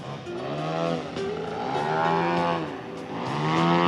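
A small Extra 300 RC model airplane engine whines loudly and steadily at an air show, its pitch sweeping up and down as the throttle shifts while the plane hangs nearly vertical on its propeller.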